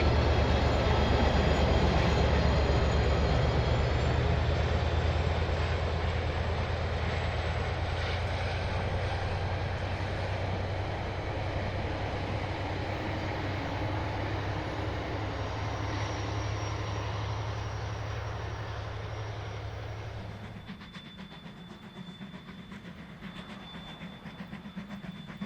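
A passenger train on its return service rumbles past Symes Road south of Kaiwi in New Zealand, a loud sustained roar with a faint high whine that fades and drops away near the end.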